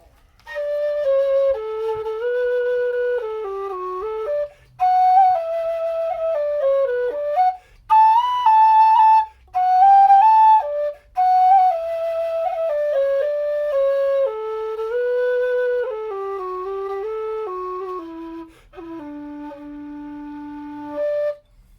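A low D tin whistle plays a flowing solo melody, note after note with short breaths between phrases, clear and close with no other sounds.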